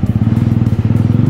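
A motorcycle engine with an aftermarket CDI revs during a launch, producing a loud, close, rapid rhythmic pulsing throb that holds steady throughout the short burst.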